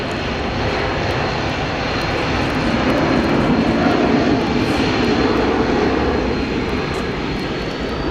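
Cathay Pacific Boeing 747 engines at Brisbane Airport roar steadily and loudly throughout, a broad continuous rumble that swells slightly in the middle, with no talking.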